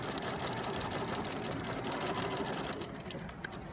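A sewing machine runs quickly and steadily while stitching paper-pieced fabric by machine, making a fast, even mechanical whir up close at low volume with no talking.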